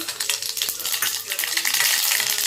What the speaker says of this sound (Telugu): పోపేసేస్తున్నాను